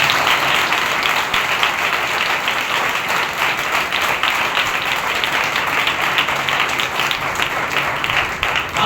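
Congregation applause at a Sunday church service, a steady full crowd clapping that holds evenly for close to nine seconds without speech over it.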